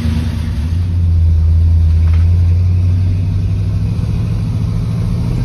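A 1977 Pontiac Can Am V8 pulls away with a loud, close, deep rumble that swells as it drives off, then settles into a steady throaty drone.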